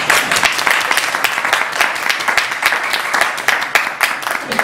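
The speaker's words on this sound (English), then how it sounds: "I think we'd like to give our applause to" Applause fills the closing session of a bioethics roundtable, dense, close clapping from an audience with a steady, slightly uneven rhythm.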